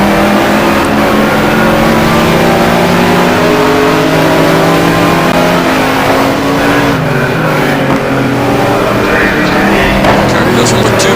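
A Lister Storm GT1 race car engine roars at speed at Anderstorp, a loud continuous drone with shifting pitch and a commentator talking over it.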